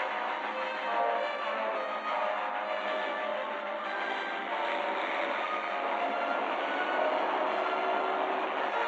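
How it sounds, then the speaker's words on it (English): Train passing through a junction makes a steady, muffled rushing rumble that holds level throughout, with no talking over it. "The train's already gone through the junction."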